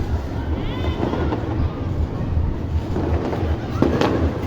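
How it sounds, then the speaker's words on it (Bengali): Firecrackers and fireworks at midnight on New Year's Eve 2025 pop and rumble from a distance as a dense, continuous crackling wash, with a few sharper bangs standing out. "অনেক কয়টা পটকা"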